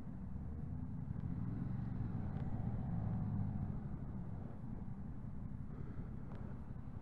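Yamaha Tracer 7 motorcycle riding through town with the wind chin guard removed, a steady low engine drone mixed with wind buffeting on the microphone, continuous and fairly quiet, with no talking.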